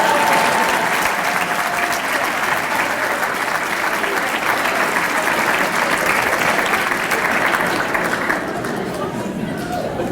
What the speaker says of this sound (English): Give Mr. Ford a round of applause.